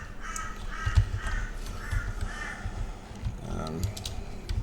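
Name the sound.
crow cawing on the fence outside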